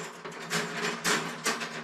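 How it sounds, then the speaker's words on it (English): Metal clips on a LifeStages folding wire dog crate snap down one after another, giving about three close, bright clicks over a steady low hum, with no talking. "you just flip these clips down"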